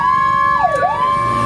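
A loud, close electronic siren tone from a Whelen 295SDA1 200-watt dual-tone siren module holds steady, then dips and sweeps back up in a single quick wail.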